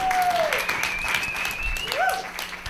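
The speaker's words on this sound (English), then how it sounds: "How about another round of applause to Jordan Heath-Rawlings for being on the sh" Applause from a late-night talk show studio audience, steady and fairly loud across the whole stretch, with sustained whistles and cheers riding on top.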